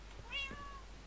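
A single short, faint meow from a Minecraft cat, rising then falling in pitch, over a quiet low hum.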